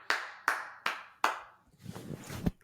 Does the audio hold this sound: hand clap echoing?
yes